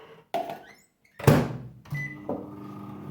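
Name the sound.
microwave oven heating butter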